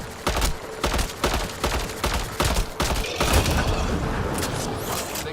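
Gunfire in the video game Mass Effect: Andromeda rattles in loud, rapid bursts, with booming shots and dense automatic fire overlapping into a continuous barrage that softens slightly toward the end.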